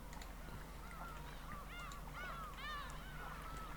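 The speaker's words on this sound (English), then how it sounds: "that is a short sound file with the birds" Short burst of honking, goose-like bird calls from a sound effect in the video game Persona 3 Reload, several overlapping calls rising and falling over a steady low background hum, with no talking.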